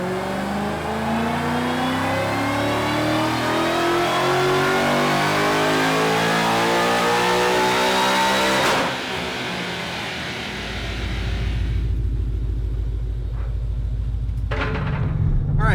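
A supercharged 2011-2014 Ford Mustang GT V8 revs up in one long rising pull, then drops off and settles into a deep idle rumble before a final blip, loud and close.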